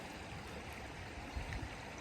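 A flowing river beside the Camino de Santiago pilgrim trail in Spain, a steady broadband rush of water with a low rumble and a brief swell near the end, no voices.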